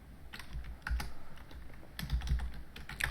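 Code being typed on a computer keyboard: soft, irregular key clicks in quick clusters with brief pauses, close but quiet, with no voices.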